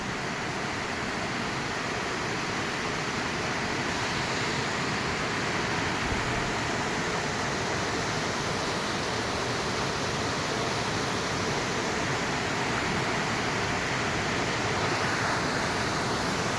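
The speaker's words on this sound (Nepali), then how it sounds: "यो चाहिँ ठ्याक्कै शक्तिखोरको गैरेबारी झरना हो" Gairebari waterfall at Shaktikhor pours with a constant, dense roar of falling water, steady and loud throughout with no other sounds standing out.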